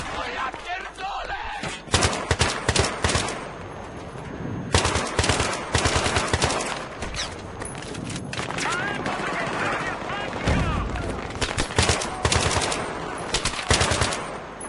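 Machine gun fire in Battlefield 3, sustained rattling bursts with brief gaps, loud and close throughout. Someone talks over the shooting for part of the stretch.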